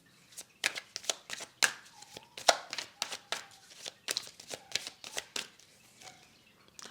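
Tarot cards are laid down one after another and covered, a quiet close series of crisp card slaps, flicks and papery rustles in an uneven rhythm.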